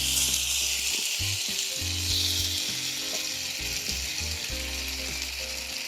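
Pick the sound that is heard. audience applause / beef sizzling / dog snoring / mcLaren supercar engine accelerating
beef sizzling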